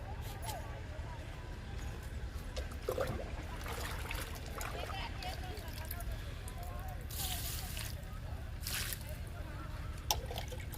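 Liquid fertilizer poured onto potted fruit plants such as cherry and sweet lemon, giving a steady trickling, sloshing pour with occasional splashes, close by under continuous background noise.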